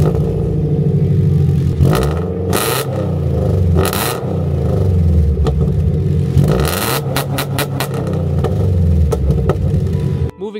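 A Subaru FR-S with catless headers and an aftermarket exhaust revs repeatedly from a steady idle rumble, with several sharp throttle blips climbing and falling, loud and close, with no talking.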